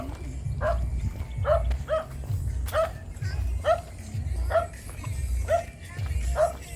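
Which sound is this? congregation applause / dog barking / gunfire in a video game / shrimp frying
dog barking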